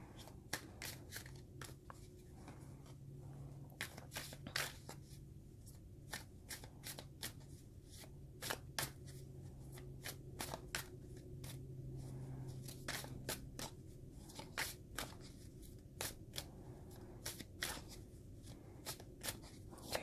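A deck of playing cards is shuffled over and over, giving quick crisp riffles and flicks in an irregular rhythm at low volume, with no one speaking.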